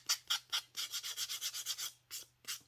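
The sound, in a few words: sanding away excess paper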